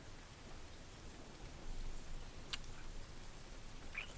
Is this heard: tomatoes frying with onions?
no